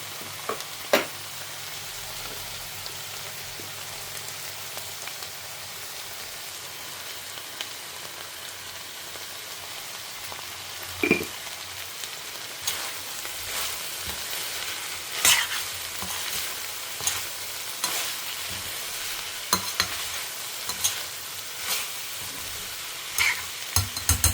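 Vegetables sauté in a pan under a steady, close sizzle, while a spatula stirs and scrapes at irregular intervals, with sharper knocks scattered throughout.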